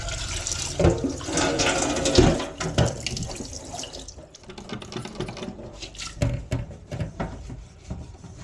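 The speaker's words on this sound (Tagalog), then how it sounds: "Ito at hugasan natin itong lulutuan natin" Tap water runs and splashes as a cooking pot is washed under it, with steady flow broken by irregular sloshes, knocks and drips, close and fairly loud, without speech.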